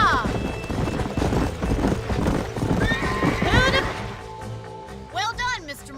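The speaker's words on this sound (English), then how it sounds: "These are fine horses." Horses in the Red Dead Redemption video game clop their hooves in a busy, rhythmic patter, and a sharp whinny rises near the end. Voices and other game sounds play underneath.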